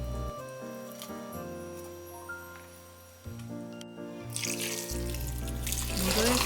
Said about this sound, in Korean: 불린 고구마 줄기는 맑은 물이 나올 때까지 여러 번 헹궈주세요.